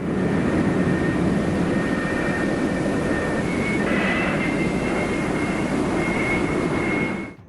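An F-4E Phantom jet with slatted wings sits on an aircraft carrier catapult, its engines a loud, close, sustained roar with a whining tone that shifts midway and then cuts off sharply at the end.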